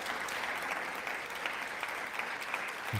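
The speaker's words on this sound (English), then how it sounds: "That's the Democrats clapping." Democratic lawmakers in a chamber applaud during a Trump speech, a fairly faint but steady crackle of many hands clapping that continues for about three seconds.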